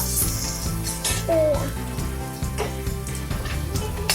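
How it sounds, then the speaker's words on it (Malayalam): Onions stirred and frying in a pan for Kerala-style varutharacha chicken curry, a moderate sizzle with irregular scrapes and clinks of the spoon against the pan. "സവാളയും എന്നിട്ട് നല്ല ഇളക്കി കൊടുക്കുക"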